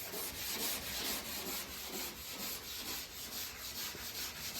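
Sandpaper scuffs a lead seam on a car quarter panel, making quiet, close, rhythmic rubbing strokes that repeat evenly, with no talking.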